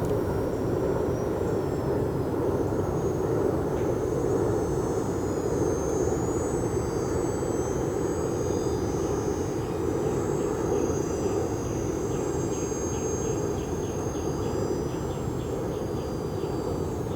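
An H-King Savage Bobber compact STOL model airplane flies overhead with full flaps, its small electric motor giving a steady distant whine over outdoor background noise, continuous with no voices.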